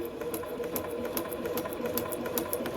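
Unthreaded sewing machine stitching along a curved line on a printed paper practice sheet, a fast, steady mechanical whir with an even ticking rhythm of needle punches, close and continuous.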